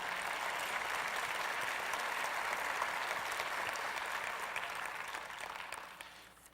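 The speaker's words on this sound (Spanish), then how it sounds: "Dale un fuerte aplauso a Dios en esta tarde." A church congregation gives a sustained, dense round of applause for God during an afternoon devotional service, steady and full before tapering off at the end.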